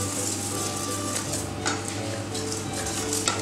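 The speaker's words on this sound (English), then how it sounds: "So I'm just going to fold the egg whites inside and try to get this mixture into a" Egg whites being folded into a soufflé mixture in a bowl give a steady, soft scraping and stirring, with light clinks of utensil against the dish and a faint background hum throughout.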